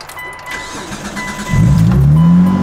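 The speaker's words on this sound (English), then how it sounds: "we had to get it jump started, but oh my gosh, she still purrs." Car engine starting after a jump start: cranking noise, then the engine catches and settles into a loud, steady running hum close by.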